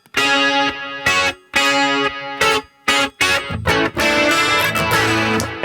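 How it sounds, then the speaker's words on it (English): A distorted new wave electric guitar plays chopped chords and riffs through a lo-fi delay, loud and close, with repeats and chorus-like shimmer trailing each phrase. "it could be a lo-fi delay"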